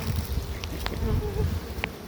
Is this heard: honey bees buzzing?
yes